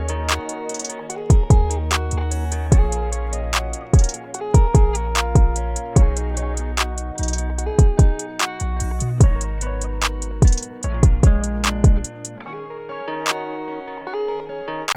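Hip-hop beat remake with deep booming 808 bass and punchy kicks under bright percussion and melodic layers, dense and loud with a steady rhythm, thinning out near the end.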